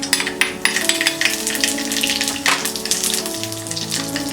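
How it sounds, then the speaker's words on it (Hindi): Mustard seeds and asafoetida hit hot oil in a pan for murmura chivda, a dense crackling sizzle with rapid popping and spattering, loud and close, with no talking. "तेल गरम हो गया है। अब हम इसमें डालेंगे ये राई, हींग"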